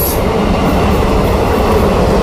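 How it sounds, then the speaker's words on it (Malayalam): A night train passes on a line near Thiruvananthapuram South, heading north to south, a loud, steady rumble of rolling wheels and carriages that continues without a break. "ഈ ട്രെയിൻ കടന്നു വരുന്നത് നോർത്ത് ഡയറക്ഷനിൽ നിന്നും പോകുന്നത് സൗത്ത് ഡയറക്ഷനിലേക്കാണ്."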